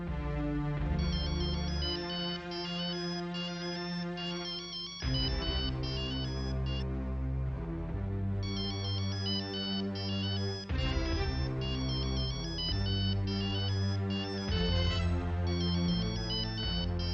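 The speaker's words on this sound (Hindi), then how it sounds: "मैं कमल का फोन ट्राई करती हूँ।" A melodic electronic phone ringtone plays loudly and steadily, repeating its bright tune over and over with no voices.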